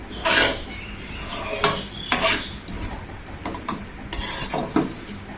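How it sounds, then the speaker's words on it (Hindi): A spoon scrapes and clinks against a pan while potatoes and eggs are mixed together, several distinct metallic strokes spaced through the stretch with a faint sizzle between them. "और चम्मच की मदद से मैंने अच्छी तरह जो है इसको मिक्स कर दिया"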